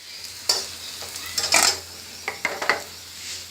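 Cowpeas being added to a pan of onion, black pepper and cloves frying over a low gas flame, with a steady soft sizzle under several clinks and scrapes of a stirring spoon against the pan.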